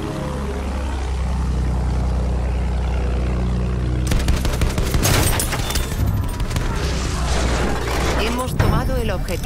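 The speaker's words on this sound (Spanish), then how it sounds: "¡Hay una ametralladora!" Machine gun fire in the World War I shooter Battlefield 1, from an attack-plane match: a steady engine drone gives way midway to dense, loud, continuous bursts of rapid automatic shots.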